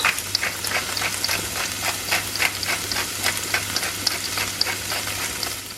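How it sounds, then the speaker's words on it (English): Bacon, onion and garlic fry in a pan with a steady, close sizzle and crackle, broken by repeated stirring scrapes in an even rhythm and a low hum underneath. "Whilst Rico is cooking off the bacon, the onion and the garlic"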